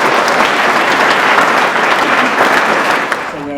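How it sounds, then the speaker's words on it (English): Audience applause rings out at a live radio panel show recording in Eltham. Loud, dense clapping runs steadily and thins slightly near the end, where a voice begins to speak. "Shall we give them a round of applause?"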